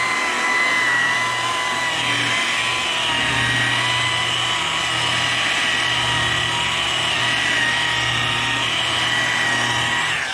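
A rotary buffer polishing car paint at a slow 1,000 RPM to remove orange peel texture, giving a steady, continuous whirring drone that stays loud and even throughout with no talking.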